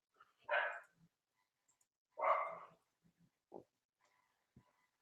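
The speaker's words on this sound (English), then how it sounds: "Sorry about my dog." A pet dog barks indoors, two distinct woofs about two seconds apart followed by a few shorter, softer yelps, fairly faint against a quiet room with no talking.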